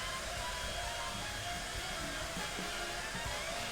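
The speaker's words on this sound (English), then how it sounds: "That is my wife's hairdryer." A home hair dryer runs steadily and loudly from start to finish, a dense continuous whoosh with a faint motor whine, with no pause or change in level.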